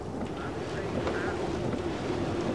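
Hurricane Elena's winds gusting hard on the Mississippi coast in 1985, a steady loud roar of wind buffeting the microphone throughout with no letup.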